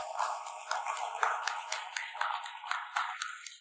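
Audience at an award ceremony claps in a steady, moderately loud patter of many hands, continuous for a few seconds.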